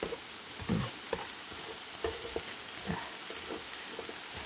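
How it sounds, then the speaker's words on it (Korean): Vegetables being stir-fried in butter in a pan, a soft continuous sizzle with occasional spatula scrapes and light taps, close and moderately quiet with no talking. "버터를 이제 예, 지금 넣어서 야채 넣어서 버터 볶고 있는데요"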